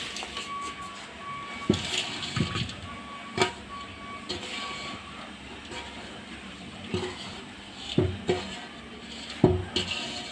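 Licorice drink being poured into a straining cloth set over a strainer for homemade Egyptian erqsous, a continuous splashing, trickling wash close by with scattered clinks and knocks, no speech.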